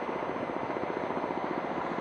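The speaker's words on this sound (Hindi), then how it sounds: "बाईं तरफ से मंच के सामने आ रहा है अगला हेलीकॉप्टर कामोव 31" A Kamov 31 naval helicopter flies past at a Navy Day display at Rajkot fort, Sindhudurg, its loud, rapid rotor chop pulsing steadily and close throughout.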